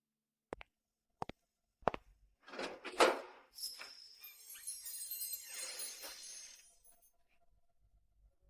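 Three sharp knocks or latch clicks, then a door swings open with a creaking, scraping sweep that fades out, close and quiet in an otherwise silent room.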